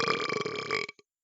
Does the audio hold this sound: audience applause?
no